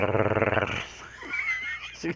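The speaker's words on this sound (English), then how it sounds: "my older dog." An older dog growls in a low, rumbling pulse for well under a second at close range, followed by faint indoor noise and small bumps.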